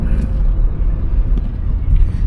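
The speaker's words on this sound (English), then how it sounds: "Motor sounds good." A 1991 Toyota Camry's engine drones in a steady, loud rumble, low and close, with no belt squeals, rattling or voices over it.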